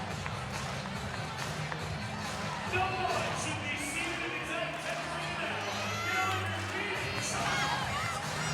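A sellout crowd of over 9,600 at a Florida versus Auburn gymnastics meet in Gainesville, a dense roaring arena hubbub with whoops and swelling cheers, heard under a commentator's voice.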